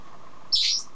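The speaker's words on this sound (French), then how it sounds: "t'imites la femelle canari, toi?" A pet canary gives a short, bright burst of chirping partway through, close and fairly loud against a quiet room, lasting under half a second.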